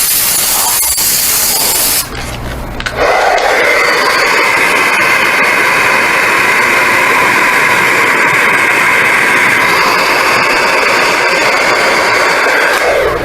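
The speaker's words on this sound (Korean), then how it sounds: "뿌려주시고" Spray gun hissing loudly and continuously as it lays black water-based paint, mixed with a gloss remover, onto a plastic car center fascia, with a short pause before a long steady pass.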